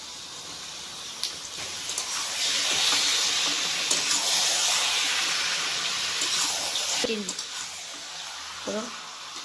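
Chicken meat goes into a pan of fried onions over a charcoal fire, raising a broad hissing sizzle that swells in the middle. A few brief clinks follow, and faint voice-like sounds appear near the end.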